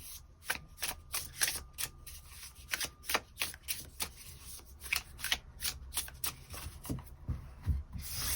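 Tarot cards are shuffled by hand in a close, repeated rhythm, each riffle a crisp papery burst followed by a brief pause, steady and loud for several seconds with no talking.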